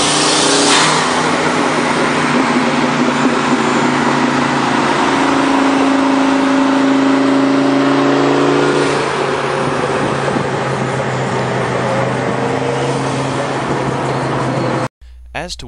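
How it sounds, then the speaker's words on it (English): A loud turbocharged Mustang engine revs steadily under load, with a rising whistling whine from the turbo layered over the roar, ending abruptly. "Listen to the turbo whistle as throttle is applied."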